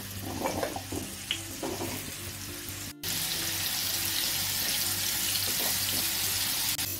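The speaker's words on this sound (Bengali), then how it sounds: "তেলটা গরম হয়ে গেলে যে আলুগুলো আমি কেটে রেখেছিলাম আলুগুলো ভেজে নেব।" Cut potatoes frying in hot white cooking oil in a frying pan, a steady broadband sizzle with stirring and clatter, rising abruptly louder and denser halfway through after a brief gap, close and continuous with no voices.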